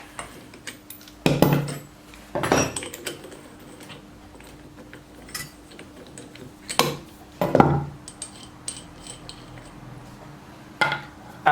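Sharp metallic clanks and ratcheting clicks come from a wrench working on the flywheel nut of a Vespa PX scooter, the flywheel held still with a spark plug tool; several loud separate bursts arrive close up with quiet pauses between them.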